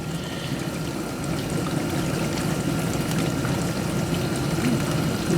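Dishwasher running a test cycle after installation, water flowing and splashing inside the tub with a steady low wash and pump hum that swells slightly toward the end, no voices.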